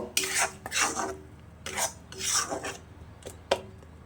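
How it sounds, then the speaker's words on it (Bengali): Tomato paste is stirred into cooked spice masala for pomfret curry, with a spoon scraping the pan in several rough, rasping strokes separated by short pauses, close and clear with no talk. "ওটা এর মধ্যে দিয়ে দিলাম ভালোভাবে এটাকে নাড়াচাড়া করে নেব"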